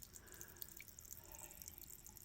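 A mountain spring on the Appalachian Trail trickles water in a thin, steady stream, with faint drips and splashes over a soft, continuous wash of flowing water, low in level and heard alone.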